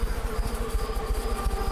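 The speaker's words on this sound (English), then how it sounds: "Insects swarm in great clusters, their bodies luminous like fireflies" Swarming insects in the sci-fi game Stasis, a dense pulsing buzz with a steady wavering drone, close and continuous with no talking.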